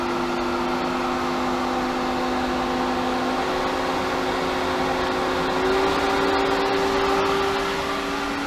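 A variable-speed pool pump, Pentair SuperFlo VS or Hayward Super Pump VS, running at maximum speed gives a steady, loud motor hum with sustained whining tones and a broad airy hiss, unbroken throughout.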